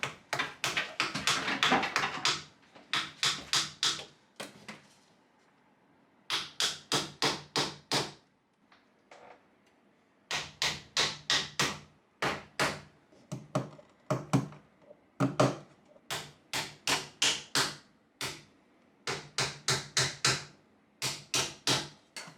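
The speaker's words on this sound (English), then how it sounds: "So now, we hammer!" A hammer drives small 1-inch panel nails into wood for a teacup birdfeeder, in quick bursts of sharp, ringing taps, several strikes per nail, pausing briefly between nails, close and loud.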